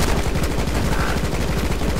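Rapid gunfire in the side-scrolling game Rocketbirds: Hardboiled Chicken, a loud, fast string of shots like a machine gun, steady and unbroken for about two seconds with no talk.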